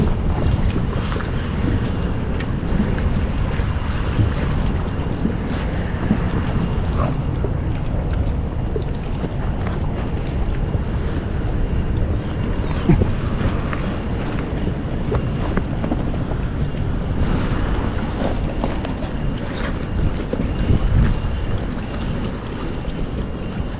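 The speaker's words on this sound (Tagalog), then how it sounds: "Bangka po ulit tayo." A small bangka fishing boat runs across the water, a steady low motor rumble blended with wind buffeting the microphone and sloshing water, continuous and fairly loud, with no voices.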